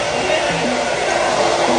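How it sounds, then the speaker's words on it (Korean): A hair dryer blows cool air onto permed hair while setting the part, a loud, continuous airy whoosh that stays close and steady for the whole moment. "가르마 하고 싶으신 위치에 찬바람으로 드라이기 바람을 쏘어주세요"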